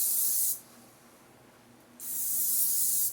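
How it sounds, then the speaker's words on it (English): Two bursts of sharp hissing cooking spray onto a pan, the first short and the second longer after a quiet pause, close by. "Spray your pan."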